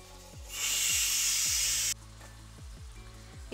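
Black Kadaknath chicken pieces hit a pan of thick masala paste and set off a loud, bright sizzle that swells for about a second and a half, then cuts back to a quieter frying hiss.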